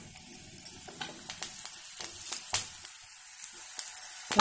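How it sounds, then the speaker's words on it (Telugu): Cashews, green chillies and curry leaves frying in hot oil for restaurant-style cauliflower 65, a steady close sizzle with crackles and spatters and the soft scrape of stirring. "జీడిపప్పు, పచ్చిమిర్చి, కరివేపాకు, ఇవి కూడా మనం ఇందులో వేయించుకోవాలి."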